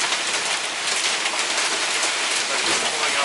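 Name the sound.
hail and rain heard during a drive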